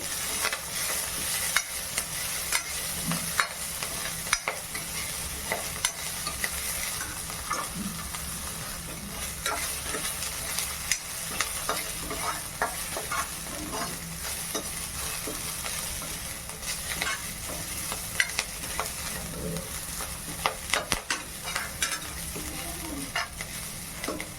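Chilies and curry leaves fry in a pan while being stirred, producing a steady close sizzle with frequent scraping and clinking of the spoon throughout.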